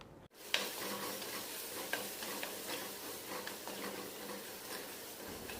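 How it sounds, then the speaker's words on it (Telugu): Gongura leaves fry in oil with a sprinkle of ground masala powder for a village-style gongura fish curry, giving a continuous soft sizzle broken by faint stirring scrapes and a few light clicks. "ఆయిల్ ఈ విధంగా పైకి తేలిన తరువాత మాత్రమే మనం ముందుగా గ్రైండ్ చేసుకుని ఉంచుకున్న మసాలా పౌడర్ కొద్దిగా వేసుకుని మరి కాసేపు బాగా వేగనివ్వాలి"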